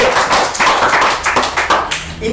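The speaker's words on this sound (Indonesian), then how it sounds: "tepuk tangan" An audience at a live-streamed band interview claps in quick, loud, rhythmic bursts close to the microphone, with voices mixed in.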